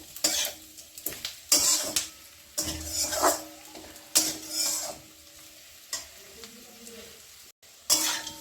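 Curry leaves going into cauliflower frying in a pan, a bright crackling sizzle with repeated stirring scrapes and clanks of a utensil on metal, loud and close.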